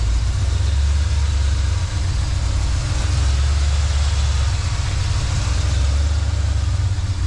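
An abandoned 1968 Plymouth Satellite idles steadily while warming up, exhaust routed through the normal rear mufflers, a loud, close, continuous low rumble with no talking.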